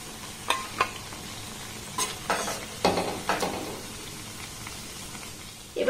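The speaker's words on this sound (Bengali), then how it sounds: "দেখুন জিলিপিগুলোকে আমি বেশ লাল লাল করে ভেজে নিয়েছি" Chhena jalebi fry in oil with a soft background sizzle, broken by several sharp spatula scrapes and clinks against the pan.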